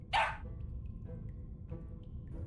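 A single short, high yip from a puppy in the video game Reverse: 1999 sounds at the start, then gives way to a low, quiet game background hum with faint soft blips.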